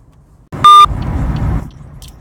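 Short electronic tone marking a dropped phone call after being hung up on, a single steady beep with a rushing line hiss lasting about a second afterward, no talking.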